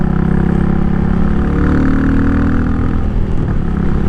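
A Royal Enfield Meteor motorcycle with big tires rides a loose-dirt gravel road, its engine a loud, close, steady thrum with a rough, continuous rumble and no pauses.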